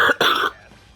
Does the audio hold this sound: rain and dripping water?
no